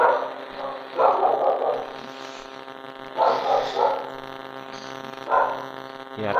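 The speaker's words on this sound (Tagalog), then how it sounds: "Puro aso lang." Dogs in a multi-storey building bark in three short bursts at mid distance over a steady mains hum, with quieter gaps between them.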